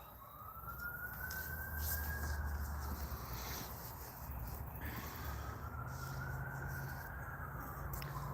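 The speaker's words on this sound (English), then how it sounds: "You hear that? You hear that? Ambulance!" An ambulance siren wails, rising and falling twice over steady traffic noise, moderately distant, sweeping slowly up and down.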